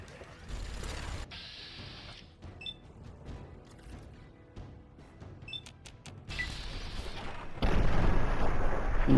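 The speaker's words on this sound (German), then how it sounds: "Und es explodiert wieder alles rundherum" Booming explosions and gunfire-like blasts in the video game Fallout 3 burst out in clusters, with mechanical creaks and a heavy rumble building toward the end.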